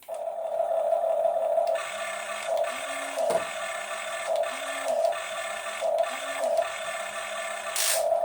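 A remote-control toy drill vehicle's electronic engine noise plays with a steady high tone and rhythmic whirring pulses repeating about every second, close and moderately loud.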